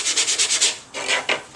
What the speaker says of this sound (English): after about 2 or 3 minutes of just a bit of light sanding